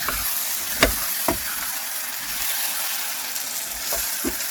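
Sticky rice with coconut milk being stir-fried in a pan, a dense continuous sizzle and crackle close by, punctuated by a few sharp scrapes of a spatula against the pan.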